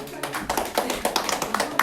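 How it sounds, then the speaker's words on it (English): Scattered audience clapping at a talk on wealth principles, a loose run of close, sharp claps mixed with a talking voice throughout. "All right, give him a round of applause."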